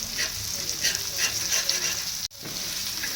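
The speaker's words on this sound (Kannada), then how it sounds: "ಇಲ್ಲಿ ಮೀನು ಫ್ರೈ ರೆಡಿ ಆಗತ್ತೆ" Flour-coated fish frying in a pan gives a steady, close crackling sizzle that breaks off for a moment near the end and then resumes.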